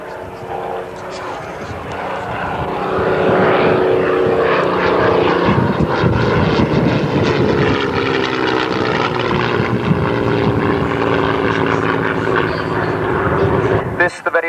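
Hawker Hurricane propeller fighter, the very last Hurricane built, rolled out at Langley, Buckinghamshire, flying at a Shuttleworth Collection air show: a loud, steady engine and propeller drone that swells and holds for the whole stretch, with a voice talking over it.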